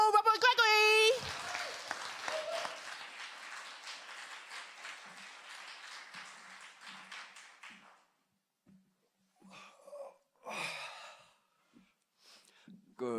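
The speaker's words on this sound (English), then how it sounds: "keep that clap going for Rob Roy Gregory" Audience clapping at a live poetry party event, a dense burst of applause that tapers off over several seconds, followed by quieter gaps with brief voices and a few scattered sounds.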